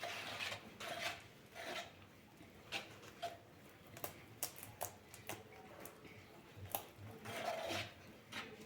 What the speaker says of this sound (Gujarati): હવે આપણે ઘસીશું. આ રીતે આપણે રાઉન્ડમાં ફેરવતા જઈને ક્રીમ બનાવીશું.